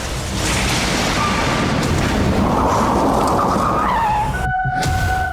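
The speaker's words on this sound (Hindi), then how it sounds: "गाड़ियों की टक्कर की आवाज।" Cars colliding as a sound effect: a loud, sustained roar of engine and tire noise builds to a rising screech, then cuts to a short burst near the end with ringing tones after.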